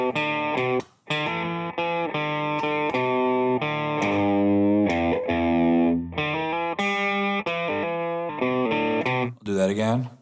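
An overdriven electric guitar plays an end-of-verse fill, a chunky sequence of distorted chords and single-note riffs in stop-start rhythm, loud and close with brief gaps between phrases.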